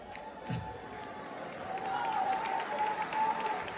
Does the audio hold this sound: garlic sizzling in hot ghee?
no